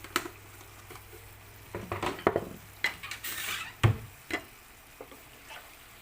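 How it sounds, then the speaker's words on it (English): Cuttlefish adobo is stirred in a pan with a utensil, giving a series of distinct clinks and scrapes against the metal, some close and sharp, set apart by short quiet pauses. "Just give a good mix."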